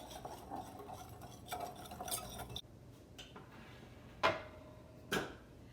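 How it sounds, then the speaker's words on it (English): A seasoning mixture for carnitas being whisked in a bowl: quiet, rapid scraping and ticking strokes, followed by a pause and then two sharper clinks of the whisk against the side. "And we are just going to mix all of those together. And a little bit of a whisk."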